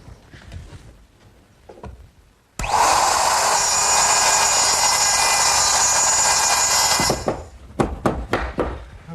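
Router cutting a wooden tenon against a template for an umbrella stand, a loud continuous high-pitched whine lasting about five seconds, framed by quieter knocks and handling taps before and after.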